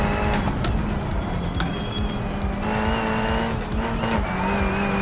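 A race car engine in BeamNG drives hard in fifth gear, a loud sustained tone steady in pitch with brief tire squeals and sharp pops over it, and no voice.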